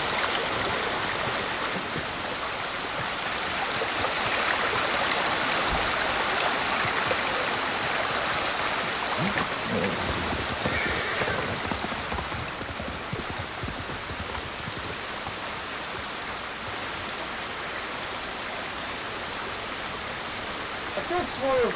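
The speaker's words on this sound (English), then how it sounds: "Oh god, more waterfalls." A waterfall in the samurai video game Ghost of Tsushima rushes continuously, a broad hissing wash of falling water held at a steady, fairly soft level.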